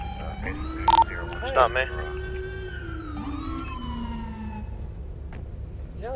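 Police car sirens wail in a Grand Theft Auto 5 roleplay session, a loud sweeping siren tone gliding up and down with short yelping bursts, with someone talking over it.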